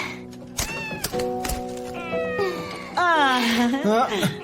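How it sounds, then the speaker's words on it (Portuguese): A kitten meows repeatedly and loudly up close, a string of rising and falling mews that grows into longer, insistent cries. "Um gatinho."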